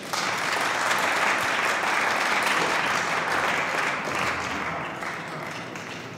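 An audience at a European Championship 9-ball pool match applauds in a dense, steady wash of clapping for about six seconds before tapering slightly.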